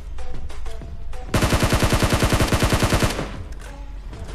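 Automatic gunfire in PUBG rips out as a loud, rapid, steady burst of roughly two dozen shots lasting under two seconds, preceded and followed by a few scattered distant reports.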